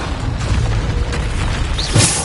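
A Bombarda spell explosion in the video game Hogwarts Legacy lands as one short, loud boom near the end. It sits above steady low battle rumble and clatter, with no talk.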